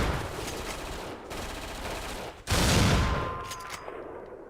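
Heavy gunfire fills a first-person shooter game, a dense roar of shots that rises into a louder blast burst midway and then gradually fades, with no talking.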